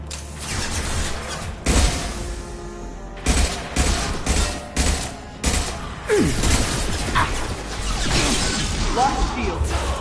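Rapid bursts of gunfire in the sci-fi shooter Mass Effect 2 crackle in loud volleys, mixed with whooshes and mechanical game effects while voices murmur underneath.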